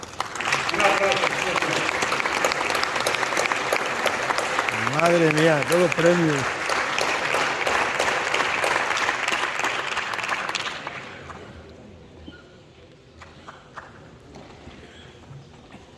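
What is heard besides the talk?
applause at cattle fair award ceremony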